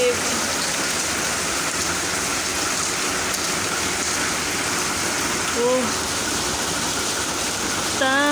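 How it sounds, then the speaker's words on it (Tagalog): Heavy rain pours down in Hong Kong, a dense continuous hiss of rainfall and runoff, with brief voices heard faintly in the background. "Dami mo ng ulan. Baha na sa baba."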